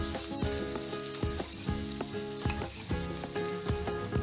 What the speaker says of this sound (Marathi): तेलावर थोडा परतवून घ्यायचा.